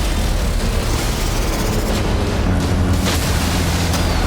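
Naval anti-aircraft and time-delay shells exploding around warships, a dense, loud continuous roar of blasts and rumbling bursts with sharper cracks standing out near the middle and end.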